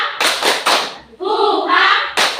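A group in a teacher-training history class claps out a rhythmic spirit cheer: quick bursts of sharp claps, a short chanted shout, then more clapping.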